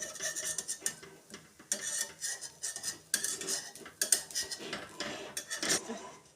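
Metal spatula scraping around the sides of a palappam pan to loosen the appam, a run of irregular rasping strokes, close and fairly quiet, with no talk.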